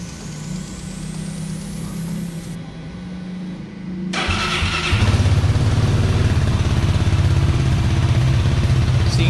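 A Benelli Leoncino 250 single-cylinder motorcycle engine is started and then runs at a steady, loud idle, its rapid thumping pulse close by with no talking.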